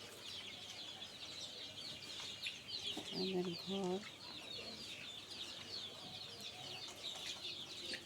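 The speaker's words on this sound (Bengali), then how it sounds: "এগুলো অস্ট্রেলিয়ার মুরগি, এগুলো এখন সবাই খাবার খেতে ব্যস্ত।" Forty-day-old Australorp chickens, about 335 on a farm, cluck while busy eating, with a few clear close clucks among constant flock chatter and a brief spoken remark.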